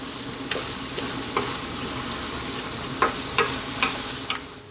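Creamy chicken pasta sauce with spinach sizzling steadily in a pan over the heat, with a constant frying hiss and periodic soft scrapes of stirring, close and alone.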